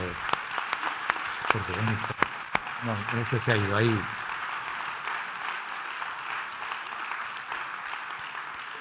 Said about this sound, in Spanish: hemos de ser muy agradecidos y pediría un aplauso